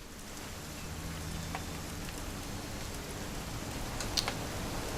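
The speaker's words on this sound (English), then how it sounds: "It's gonna rain the whole weekend," Steady rain falls in the video game What Remains of Edith Finch, a soft constant patter and hiss with a few faint ticks, even and unbroken throughout.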